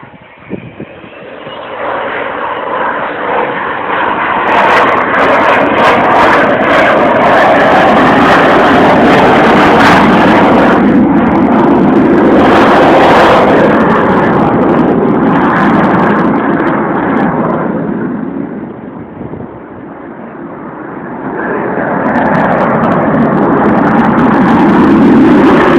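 Avro Vulcan XH558 delta-wing bomber flying past with its landing gear down at RNAS Yeovilton, a loud, sustained roaring jet rumble that swells, dips briefly and surges again as it passes.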